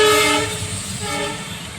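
A train passes close by, a loud continuous rumble and rolling roar with a tonal, horn-like drone sustained throughout, heard alone without voices.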